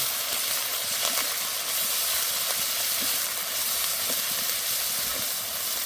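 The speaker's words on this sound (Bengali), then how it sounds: "আদা ও রসুন দিয়ে কিছুক্ষণ নেড়ে নেব।" Ginger and garlic paste fries in a pan for chicken ghugni, a steady close hiss and sizzle with faint scraping as it is stirred now and then, no voices.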